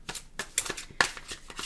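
Rapid papery riffling of a deck of cards being shuffled, several quick bursts in a row, close by with no talking.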